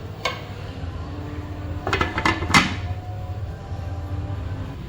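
A metal lid is set onto a pot of homemade Sichuan-style hot pot, giving a few close clanking clinks of metal against metal over a steady low kitchen hum, with no talk.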